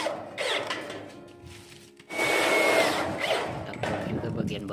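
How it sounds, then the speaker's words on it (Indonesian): A power drill bores into a homemade sink frame at the lower post, its whine rising loud and steady after a quieter first half, with rubbing handling noises around it. "Lalu kita bor teman-teman."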